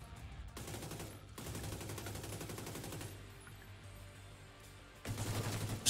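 Assault rifle fire rattles in The Division 2 video game during a survival mission in The Summit, with rapid automatic bursts separated by short pauses and a dense, steady clatter of shots at moderate volume.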